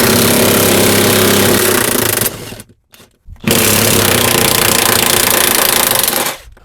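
An impact wrench hammers out the seat bolts on a Jeep JK, a loud continuous rattling burst, a brief pause, then a second long burst, close up with no talking.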